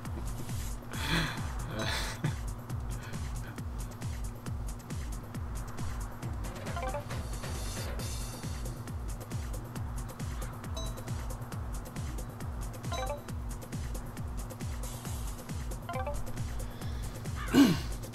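A beagle breathing in the video game Tokyo Jungle: steady, rhythmic panting and snorting held for the whole stretch over a constant low game hum, with a few louder huffs near the start and end.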